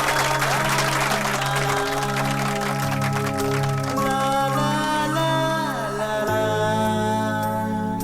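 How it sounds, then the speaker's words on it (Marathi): A crowd claps at a felicitation ceremony; steady, dense applause fills the scene, blended with music playing throughout. "प्रचंड टाळ्या"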